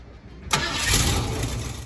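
A 1969 Ford Mustang engine cranks briefly, then fires up and settles into a loud, steady idle close by.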